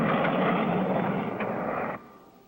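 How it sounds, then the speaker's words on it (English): A black jet in a cartoon roars past close and loud, a broad sustained engine rush that holds steady and then drops off sharply as it passes. "There goes the black jet again!"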